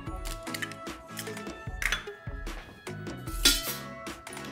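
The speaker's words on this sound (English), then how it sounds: "First, I'll crack my eggs into a bowl." Eggs being cracked into a bowl in a kitchen while preparing a leek and cheese quiche, a series of close, sharp taps and clinks against the rim, several in quick succession over a few seconds.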